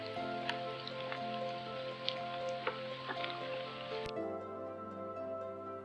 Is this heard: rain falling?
yes